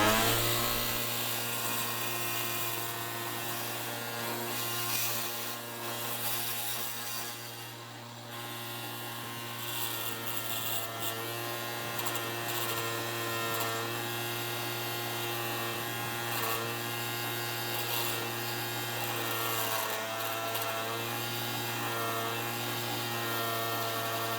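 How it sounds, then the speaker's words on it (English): A buffing wheel cleans up the sides of a cast aluminum ingot made from melted scrap soda cans, giving a steady, loud motor whine with strong harmonic hum throughout, continuous and unbroken with no talking. "Before I polish anything, I'm going to clean up the sides of this ingot with my buffing wheel."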